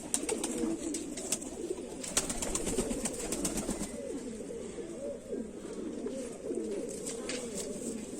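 Kamagar (Kamangar) pigeons, a Kante-Wale / Jhumke-Wale breed, cooing continuously at close range in a low rolling murmur, with someone talking throughout.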